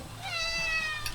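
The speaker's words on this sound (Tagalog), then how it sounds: "Oh, may sama pa kaming pusa oh." A cat lets out one clear, drawn-out meow, loud and close, rising then falling over about a second during a road trip near the Kaybiang Tunnel.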